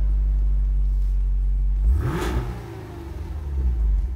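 A Cadillac Escalade V's powerful engine idles with a deep, loud drone, then is sharply revved once near the midpoint, its roar settling into a rumbling, fluctuating rev.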